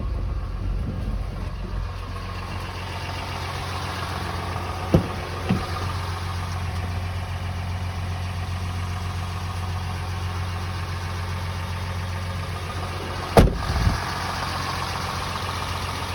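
A 2007 Dodge Ram 2500 Mega Cab 4x4 with a 6.7 liter diesel sits idling in a steady, low, continuous drone. A couple of brief knocks stand out near the end.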